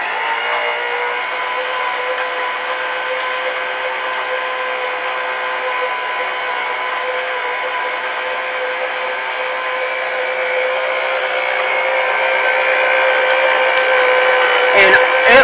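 An electric mixer whisks cream cheese, butter and powdered sugar, its motor giving a steady, close, continuous whine that swells slightly toward the end.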